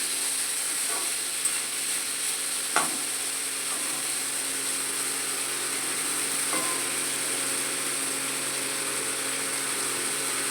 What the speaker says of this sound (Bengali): এটা আমি অল্প তেলেই ভেজে নিচ্ছি